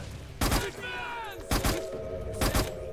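Gunfire in Metal Gear Solid 4, three separate loud bursts of shots spaced about a second apart, with a whining mechanical sound between them.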